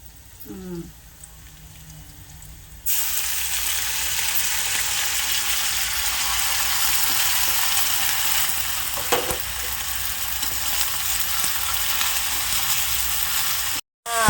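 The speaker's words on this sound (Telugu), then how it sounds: "ములమాకు ఫ్రై అవుతున్నప్పుడు ములమాకు పచ్చివాసన పోయేంత వరకు వేపాలి" Drumstick leaves and onions fry in a pan. A loud, steady sizzle begins suddenly after a quiet moment and carries on close by, with a faint stir partway through.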